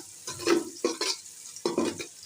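Chopped onions fry in butter with cardamom, cinnamon and cloves in a pot for biryani, giving a steady close sizzle broken by stirring scrapes and spoon knocks.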